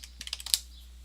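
A computer keyboard is typed on for a moment: a quick, quiet burst of about eight sharp key clicks in uneven rhythm, heard alone.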